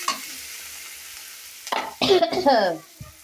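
Onions and green chilies fry in a pan, a soft sizzle under clattering stirring and scraping that picks up in the second half, with brief voices mixed in.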